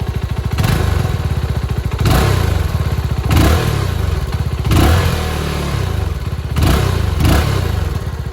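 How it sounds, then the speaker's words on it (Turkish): A CF Moto 250SR motorcycle engine revs up repeatedly, each throttle blip swelling over a loud, rumbling idle, close to the exhaust with no talking. "Ara gaz vereyim. Bir bakın abi sesine."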